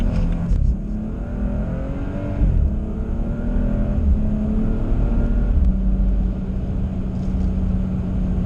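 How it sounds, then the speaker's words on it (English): A BMW M235i with a Stage 1 tune, accelerating through a moderate pull. The engine note rises steadily and loud, with audible upshifts breaking the climb a couple of times. "This last moderate pull is just to show that other than the high RPM issue, the car's running butter smooth everywhere else"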